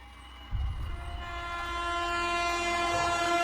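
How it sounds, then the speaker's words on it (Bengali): A night train approaches in a horror animation, with a low rumble building to a long, steady, tonal horn-like drone that grows louder and holds to the end. "হঠাৎ করে নিঃশব্দ রাতের ভেতর ভেসে এলো ট্রেনের শব্দ।"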